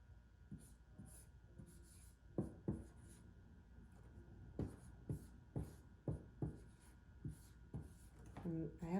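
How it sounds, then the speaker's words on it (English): Marker or chalk strokes on a classroom board scratch and tap in quick, irregular bursts, close and fairly faint, with a low hum underneath. "I'm going to clean my board and write those"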